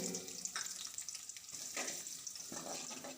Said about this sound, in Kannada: ನೀರುಳ್ಳಿ ಬೇಯಿಸೊಪ್ಪು ಎಣ್ಣೆಡು ಫ್ರೈ ಮಲ್ತದು